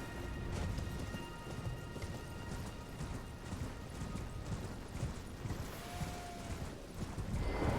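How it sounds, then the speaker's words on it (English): Steady rain in the video game Elden Ring, a dense continuous hiss washing over everything, with low rumbling underneath and no distinct thunder crack standing out. "Also, it's raining right now."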